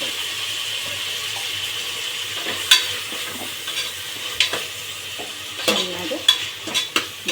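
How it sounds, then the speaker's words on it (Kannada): Two tomatoes softening in a pan with turmeric powder, a steady moderate sizzle punctuated by sharper spatula scrapes and clinks that grow more frequent toward the end, without talk. "ಟೊಮೊಟೊ ಸ್ವಲ್ಪ ಸಾಫ್ಟ್ ಆಗಬೇಕು, ಅಲ್ಲಿವರೆಗೂ ಬೇಯಿಸ್ಕೊಳ್ಳಿ"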